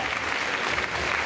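An audience claps at a hair and makeup show in Paris, a dense, continuous wash of applause that stays steady and close.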